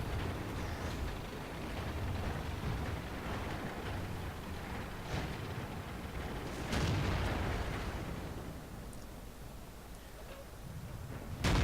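Tank cannon fire in a video game battle, with booming blasts and a loud burst near the middle over a continuous dense rumble of engine and combat noise, no talking.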